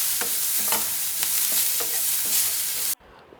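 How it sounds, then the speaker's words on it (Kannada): Onion and tomato fry in a pan while being stirred, a steady close sizzle broken by a few scraping strokes, ending abruptly near the close. "ಅದನ್ನು ನೀಟಾಗಿ ಮಿಕ್ಸ್ ಮಾಡಿಕೊಂಡು ಟೊಮ್ಯಾಟೊ ಸಾಫ್ಟ್ ಆಗೋವರೆಗೂ ಕುಕ್ ಮಾಡ್ಕೋಬೇಕು."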